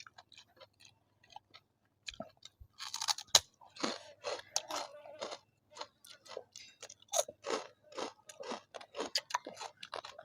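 Close, crisp crunching of crispy pork being chewed, with repeated irregular bites and crackles that grow busier partway through, no talking.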